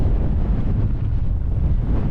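Wind blows across open sand dunes on a coastal walk, a loud, steady low roar buffeting the microphone without pause and with no voices.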